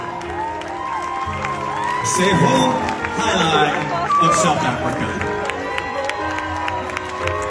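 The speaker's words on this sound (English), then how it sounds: "let's have a big round of applause for our brand new Mrs. World" An audience cheers and applauds for a newly crowned Mrs. World, the crowd noise swelling in the middle and rising with whoops, while an announcer speaks over it.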